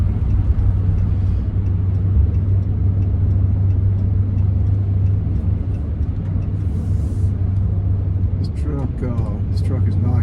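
Inside a new truck cruising on the interstate with a door ajar: a constant low engine and road rumble throughout, steady and fairly loud, with a voice talking briefly near the end.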